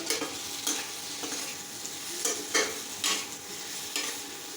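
Egg curry with fried eggs cooking in a pan on a home stove gives a steady close sizzle, broken by several soft scraping stirs at irregular intervals, with no talk.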